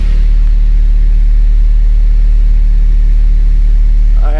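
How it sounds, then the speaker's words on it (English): A Honda-style car engine fitted with a Skunk2 intake manifold idles while warming up, a loud, steady low rumble held close and even throughout, with no talk. "she's idling really well"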